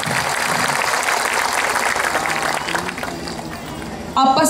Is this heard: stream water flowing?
no